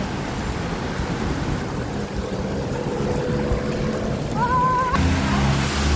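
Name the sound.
heavy rain suddenly pouring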